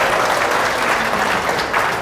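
An audience at a seminar claps together in a lively burst, the dense applause staying loud and close across the short stretch.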